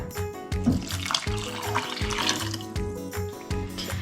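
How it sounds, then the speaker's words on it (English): Boiling water pours steadily into a pot of raspberries, a continuous splashing rush with a few clunks and knocks underneath, fairly close. "to that we're going to add 400 mils of boiling water"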